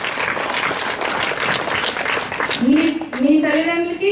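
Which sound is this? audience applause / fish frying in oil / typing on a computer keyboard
audience applause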